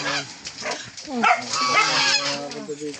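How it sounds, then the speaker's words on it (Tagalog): Several geese honk repeatedly at close range, loud nasal calls overlapping one another in quick bursts. "Ah, mga gansa ko eh. Yung mga gansa ko eh."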